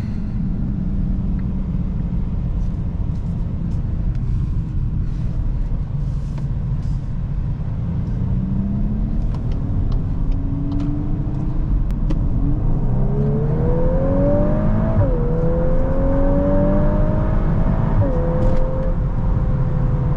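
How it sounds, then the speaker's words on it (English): A 2024 VW Golf R with a DSG gearbox pulls hard on the road, its engine note rising steadily in pitch with a quick shift and renewed climb over a constant low road rumble. "Excellent acceleration from this powertrain. Very powerful."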